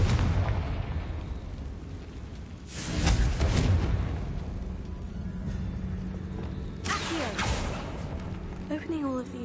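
A Confringo blasting spell in Hogwarts Legacy going off inside a tomb, a loud burst around the third second followed by a second blast later, with rumbling debris and game effects between.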